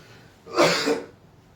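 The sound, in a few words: cough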